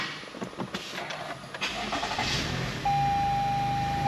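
A car engine starts up during a crankshaft position sensor check, cranking briefly and then catching into a steady idle with a sustained whine, heard close and moderately loud.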